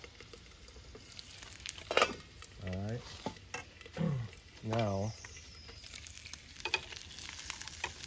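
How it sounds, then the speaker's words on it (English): Bacon crackles and sizzles steadily in a hot pan at Shades State Park, Indiana, while someone speaks briefly and a few other low voiced sounds rise over the frying. "the bacon's already sizzling"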